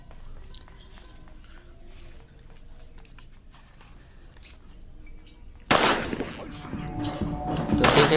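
Gunshots in the video game Granny Chapter Two: a quiet stretch of faint clicks and ambience, then a sudden loud burst of gunfire near the end followed by another sharp blast.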